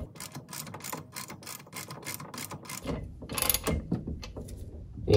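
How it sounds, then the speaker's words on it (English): A 3/4 socket on a ratchet drives a bushing into a Mercruiser Alpha outdrive lower unit, giving a steady run of quick, close pawl clicks, then a louder burst of metallic clunks as the part seats. "I'm just using a 3/4 socket and ratchet, and I'm going to screw this bushing in until I feel some tension"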